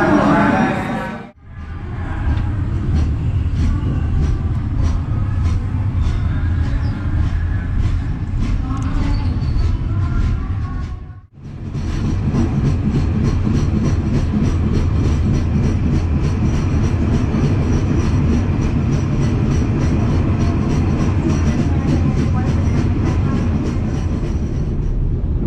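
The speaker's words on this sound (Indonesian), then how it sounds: "Kereta api Airlangga tiba di stasiun Semarang Poncol" Continuous heavy rumble and roar of an economy-class passenger train arriving at Semarang Poncol station, Indonesia, steady and loud throughout, with brief dips.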